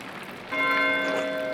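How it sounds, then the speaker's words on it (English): Church bell ringing in the video game Pentiment, one struck toll that enters suddenly and rings on with a sustained humming decay over light background hiss. "Why is Matthew ringing the bell?"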